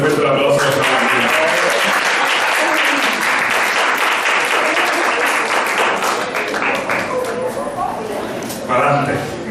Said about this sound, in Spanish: Después fuerte el aplauso a nuestra familia.